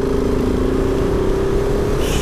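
A KTM 690 SMCR single-cylinder motorcycle engine drones steadily while riding, holding an even, loud mid-pitched note with wind rush over it and no speech.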